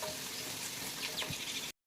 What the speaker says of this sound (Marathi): आता मिरच्या घालायच्या चिरलेल्या बारीक लसूण घालायचं